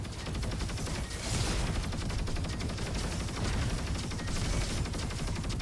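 Rapid automatic fire from the Quasar SMG in the video game ROBOQUEST, a dense, continuous loud burst of shots that runs for several seconds with barely any pause.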